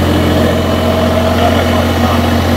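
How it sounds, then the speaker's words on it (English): A small Yanmar diesel engine idles steadily on a miniature tracked carrier at a rocky pool excavation, a loud, even low rumble with no change in pace. "Very interesting, little Yanmar diesel."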